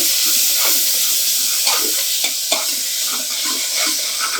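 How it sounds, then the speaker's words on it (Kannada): Tomato is stirred into a frying ginger garlic masala for aloo methi, with a loud, close, constant sizzle and repeated spoon scrapes against the pan. "ಇವಾಗ ಟೊಮೆಟೊ ಕೂಡ ಸೇರಿಸ್ಕೊಳ್ತಾ ಇದ್ದೀನಿ ನಾನು ಇದಕ್ಕೆ ಇದನ್ನು ಕೂಡ ಚೆನ್ನಾಗಿ ಮಿಕ್ಸ್ ಮಾಡ್ಕೊಳ್ಳೋಣ"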